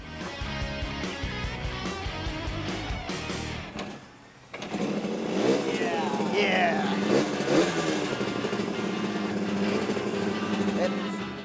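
A two-stroke custom motorcycle engine sputters, then cuts out briefly before catching and settling into a loud, rough idle with rising revs, while people talk nearby.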